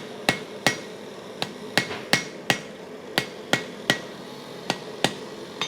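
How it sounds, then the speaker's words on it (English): A hand hammer strikes a steel spear blade on an anvil during forging, producing about fifteen sharp ringing blows at an uneven, steady pace, close and loud with no talk. "And you want a really solid contact with the anvil underneath."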